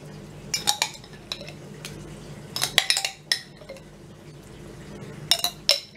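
Cream cheese and pesto being stirred together in a dish, with a spoon repeatedly clinking and scraping against the dish in short bursts over a low background hum.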